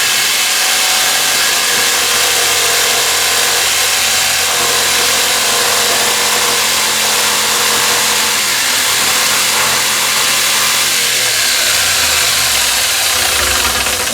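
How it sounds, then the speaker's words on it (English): A jigsaw cuts a wooden camera-body panel along marked lines, giving a loud, continuous buzzing motor drone with steady reciprocating rasp that holds throughout and shifts pitch near the end. "I've just got a jigsaw between these 2 lines now."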